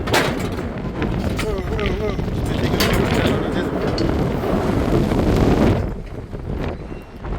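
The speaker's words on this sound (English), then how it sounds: "it's nice and windy up here, fellas" Strong wind high up on a steel-frame construction site buffets and roars across the microphone in a steady gust that eases near the end.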